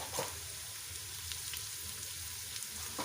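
Bay leaf, cloves and black peppercorns sizzle in hot oil in a pot while Lahori chickpea curry is being made: a soft, continuous crackling hiss, faint and steady, with a few small pops.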